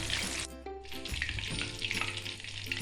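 Breaded chicken for a zinger burger deep-fries in hot oil, a dense, continuous bubbling crackle with a low steady hum underneath, close and fairly loud throughout.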